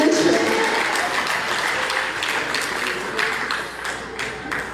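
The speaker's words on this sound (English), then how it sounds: "Please clap for yourselves" An audience clapping for themselves at a Ugandan gathering, dense continuous applause that tapers slightly midway, with some voices and cheers mixed in.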